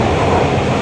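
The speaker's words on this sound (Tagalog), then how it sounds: "Is that the train?" A Toronto subway train runs as a steady, loud, close rumble, a continuous broadband roar of the moving car with no gaps and no voices.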